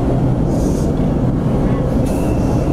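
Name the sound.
LRT light rail train at Gil Puyat station, Pasay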